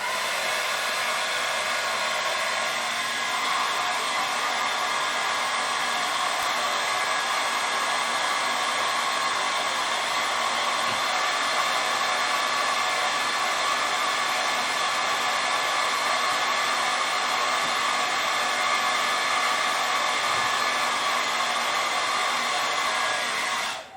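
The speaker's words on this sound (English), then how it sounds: "Let me use the hairdryer and repeat the test. Turn this on. It's on a warm setting." A hair dryer on its warm setting, powered by a Jackery HomePower 3600 Plus power station, runs with a loud, steady whooshing whir for about twenty-four seconds, alone and unbroken.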